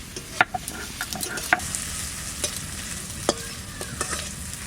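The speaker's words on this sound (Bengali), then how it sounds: "জিরে আদা শুকনো লঙ্কা সর্ষে বাটা দিয়ে দিচ্ছি কাঁচা লঙ্কা" Cumin, ginger, dried chilli and mustard paste frying in a pan, a hissing sizzle broken by sharp clicks and spatula scrapes, close with no voices.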